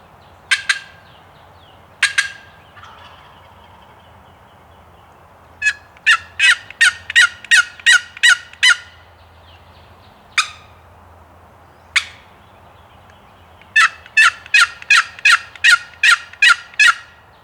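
Wild turkey gobbler gobbling in the woods on opening day of hunting season, sharp isolated yelps followed by rapid rattling bursts of calls, clear and fairly close against a quiet background with no talking.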